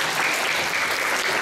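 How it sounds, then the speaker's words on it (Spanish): A school research forum audience applauds student presenters, dense and steady clapping filling the whole clip at close range with no talk over it. "Démosle un aplauso a estos expositores."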